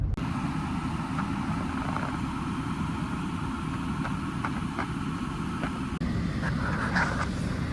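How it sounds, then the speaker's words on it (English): A parked car's engine idles steadily to keep the cabin warm on a snowy winter night, a low continuous rumble close by with a few faint clicks and knocks on top, no voices. "so I'm gonna leave the car on and leave it heated"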